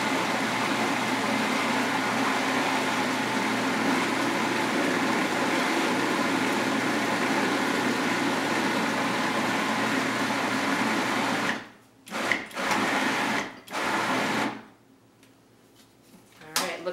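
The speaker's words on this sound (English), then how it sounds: "you want to make sure your onions in there are really grinding up" A blender grinds onions and nutritional yeast for a vegan lasagna filling. The motor gives a loud, steady whir for about twelve seconds, then stops and starts in short bursts before cutting out.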